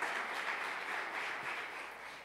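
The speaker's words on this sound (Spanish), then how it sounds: "¿Quiere darle ese aplauso al Rey de Gloria?" Applause from a church congregation during a Sunday sermon, heard as a faint, steady wash of clapping without a clear rhythm, distant and low in level.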